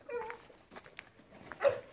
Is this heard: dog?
yes